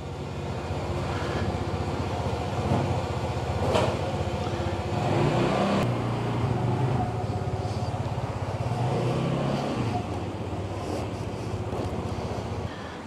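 A Peugeot Django 150cc scooter ridden on a test ride in Bali, Indonesia, its engine a steady drone under rushing wind and road noise, with the pitch rising and falling as it accelerates and eases off.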